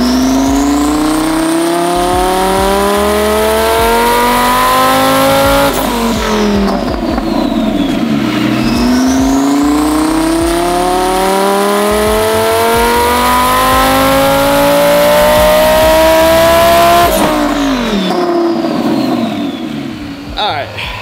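A tuned car with bolt-on upgrades, making about 500 wheel horsepower, roars on a chassis dyno in two long, loud rev pulls that climb steadily in pitch before dropping back and building again.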